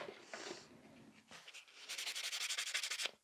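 A white buffer files across the surface of a sculpted fiber gel nail extension with soft, close scratching strokes, speeding into a quick run of rhythmic rubbing passes near the end.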